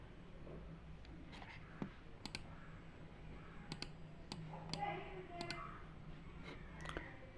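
A computer mouse clicks on links in a web browser, a few sharp, quiet single clicks scattered through a hushed room, with faint keyboard-like ticking between them.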